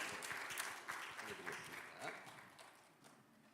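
A church congregation at a Sunday worship service claps in quiet, fairly faint applause that trails off, with a voice speaking over it.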